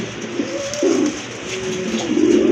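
A pair of Blue Shirtin pigeons coo up close, with several drawn-out throaty phrases separated by brief pauses and no voices over them.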